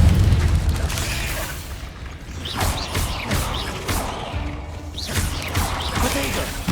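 Fiery spell blasts from the Confringo curse in the Hogwarts Legacy game, a string of loud booming bursts with whooshing tails over a dense, rumbling game soundtrack, with voices calling out between them.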